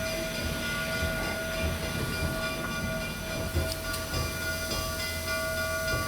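Engine 618, a locomotive pulling away in low gear and gathering speed, gives off a steady mechanical drone and rumble with faint rail clatter, heard at a moderate distance with no voices.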